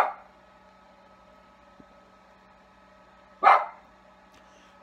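One short, sharp bark from a dog indoors, loud and close, preceded by a faint tap, with a quiet hum filling the rest of the stretch.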